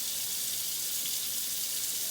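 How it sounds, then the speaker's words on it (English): Running tap water streams steadily into a sink as hands are scrubbed with a designated brush during hand washing before bottling raw milk, a constant close hiss with no talking. "I have a designated brush to be able to scrub my hands good."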